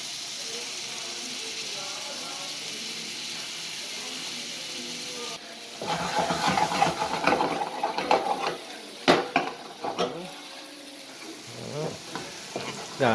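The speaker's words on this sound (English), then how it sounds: "in my pan I have some fresh oil along with some real butter, and I'll get my onions going in there first" Onions frying in fresh oil and real butter in a pan, a steady sizzle that is soft at first, then louder and busier with scraping and stirring clatter.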